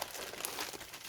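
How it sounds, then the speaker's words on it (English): A padded flat rate priority mail envelope with bubble lining crinkles and crumples in the hands, a short close burst of papery rustling heard alone. "I consider this a bubble, so this has extra padding in it, so I consider it a padded flat rate envelope"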